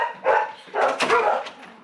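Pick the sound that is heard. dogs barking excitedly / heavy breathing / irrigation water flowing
dogs barking excitedly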